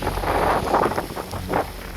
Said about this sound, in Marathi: वारा खूप जास्त सुटतोय.